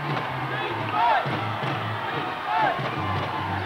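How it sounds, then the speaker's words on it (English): A basketball crowd at a London Towers versus London Leopards game roars after a three-pointer, a sustained cheering din that swells twice with shrill whoops rising above it. "Now the crowd seems to be coming alive and getting back in the game."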